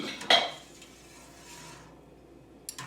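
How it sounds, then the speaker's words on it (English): A spoon stirs milk curd in a pot for quick mozzarella, starting with a sharp metallic clink against the side, then soft, faint sloshing before a final light tap. "So I'm just giving a nice stir."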